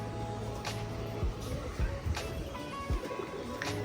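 Pigeons in a loft, including silver birds, give soft, low, repeated coos, faint and somewhat distant, over a light background hum.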